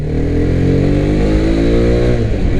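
A 2021 Mahindra Mojo 300 ABS BS6 motorcycle engine revs steadily and loud throughout, its pitch climbing past 6000 rpm as it accelerates, with no talking.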